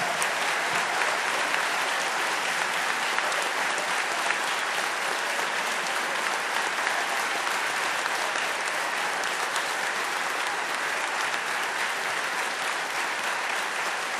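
A church congregation applauding after a choir cantata, a dense, steady roar of many hands clapping that fills the whole stretch without letting up.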